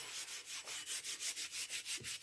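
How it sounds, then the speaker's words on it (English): A steel brush scrubs a rusty axe head after a vinegar soak. About a dozen quick, even, close-up scraping strokes fall in a steady rhythm, with no voices. "Now what I have is, I have a steel brush."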